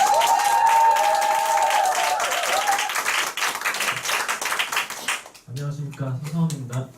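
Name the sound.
audience applause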